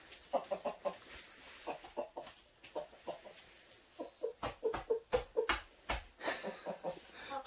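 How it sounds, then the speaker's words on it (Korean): A rooster clucks agitatedly in repeated sharp bursts, uneven in rhythm with short pauses, at moderate distance and fairly quiet. "숫닭이 화난 것 같습니다."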